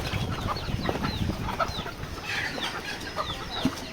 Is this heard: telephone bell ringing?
no